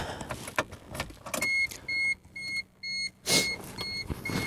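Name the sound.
turning on ignition key of 1989 Toyota Corolla AE92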